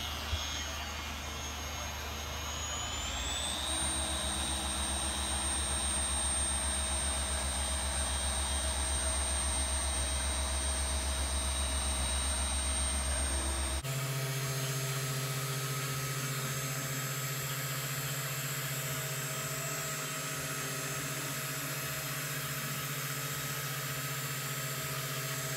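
A Rupes polisher with a blue microfiber cutting pad runs on car paint with heavy overspray, giving a loud, steady, unbroken machine drone close by that shifts pitch partway through.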